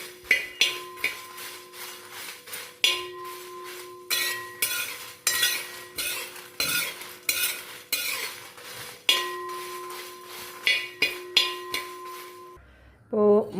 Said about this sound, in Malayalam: ചൂടായ ഉരുളിയിലേക്ക് ഇതിലേക്ക് ആവശ്യത്തിനുള്ള മല്ലിയും മുളകും ഇട്ട് കൊടുക്കാം